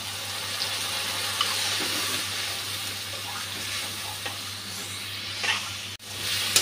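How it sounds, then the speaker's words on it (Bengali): Spice paste sizzles steadily in a pan with prawns, a dense hissing fry that holds throughout, with a low hum underneath and a brief dip near the end. "মশলাটা খুব ভালো করে ভেজে নিয়েছি"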